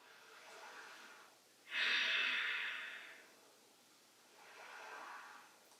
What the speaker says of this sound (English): Taking 2 deep breaths.